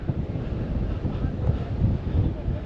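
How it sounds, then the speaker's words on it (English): Strong wind buffets the microphone at a coastal lookout near Esperance, a continuous low rumbling roar that never lets up. "Bit breezy."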